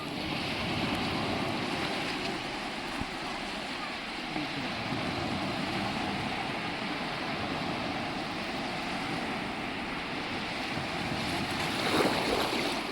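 Ocean waves wash continuously onto the shore at Chivla beach in Malvan, a clean blue-water beach, heard as a steady broad surf roar with wind buffeting the microphone and a slight swell near the end.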